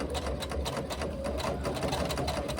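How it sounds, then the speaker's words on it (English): A sewing machine stitches a 1/8 inch seam along a foam-padded laptop bag, with a fast, even, continuous rattling whir close by and no talking. "now I'm coming back up the other side, trying to keep this top layer as flat as possible on the foam"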